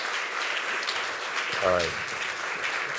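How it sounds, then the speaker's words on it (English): Continuous audience applause for a keynote speaker rolls through the hall at an even level, with a brief spoken remark cutting through the clapping midway. "But let's give Bob Knakal a round of applause."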